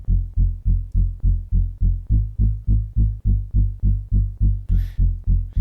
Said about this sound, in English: it's a really low pulsing bass